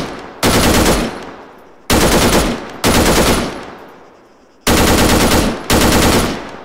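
Assault rifle fire in the military shooter Arma 3: five loud, close bursts of rapid automatic shots, each ending abruptly and trailing off in echo before the next, with no talking.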